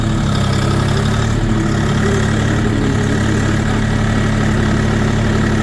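Car engine running loud and close while driving in reverse gear, a continuous low rumbling drone with steady vibration throughout.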